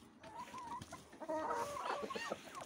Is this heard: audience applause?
no